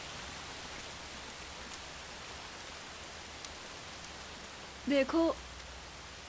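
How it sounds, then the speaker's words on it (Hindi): Steady, soft rain falls throughout as an even hiss, with a single short spoken word near the end. "बारिश हो रही है।"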